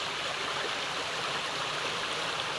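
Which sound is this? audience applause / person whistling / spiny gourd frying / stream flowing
stream flowing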